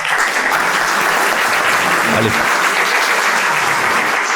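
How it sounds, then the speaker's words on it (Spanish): Loud, dense applause from a crowd at an Argentina–Israel relations event honoring the Armenian ambassador, continuous throughout with a brief voice murmuring underneath. "para él un aplauso, por favor"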